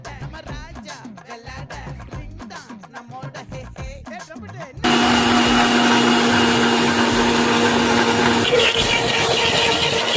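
A blender whirs loudly and steadily, mixing an avocado milkshake with milk and sugar, starting about halfway after a stretch of talk and running continuously to the end.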